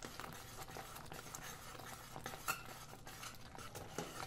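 Raw mango chutney is stirred in a pan with a spoon, producing faint, close scraping and soft clinks at a quiet, steady pace, with one sharper tap partway through.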